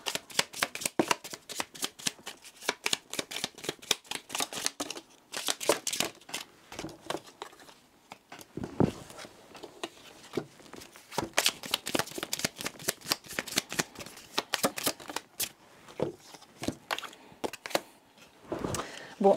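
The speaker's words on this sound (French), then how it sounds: "ce qu'on va faire, c'est que je vais aller recouvrir ces cartes" Oracle cards shuffled and handled on a table, a long run of quick papery flicks and snaps in irregular bursts with brief pauses, close and clear without talk.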